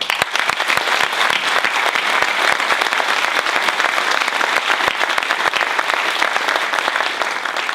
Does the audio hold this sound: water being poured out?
no